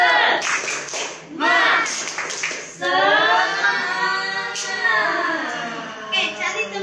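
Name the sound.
children doing a rhythmic 'tepuk semangat' clap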